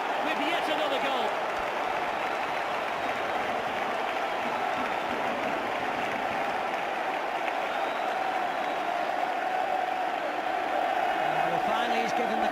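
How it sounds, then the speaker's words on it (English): Football stadium crowd in a Barcelona–Arsenal match roars and applauds after a goal, a broad sustained wash of cheering that holds steady from start to finish. "Well, finally he's given the crowd something to cheer about."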